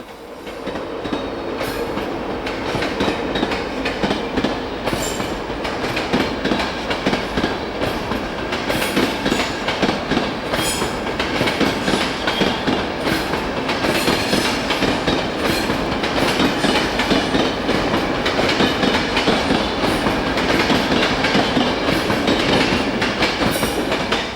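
A train rumbles steadily past at close range on a British main line, its wheels beating a continuous rhythmic clickety-clack for the whole stretch, loud and unbroken.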